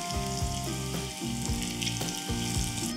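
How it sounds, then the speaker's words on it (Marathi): Masala kaap slices shallow-fry in oil until crisp, making a steady, close sizzle that runs unbroken beneath background music. "आणि मस्त खरपूस होईपर्यंत दोनही बाजूने तळूयात."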